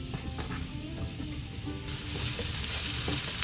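Garlic and onion sizzle in hot annatto oil, a dense, steady frying crackle that grows louder and brighter halfway through as the pan heats up, with faint stirring underneath.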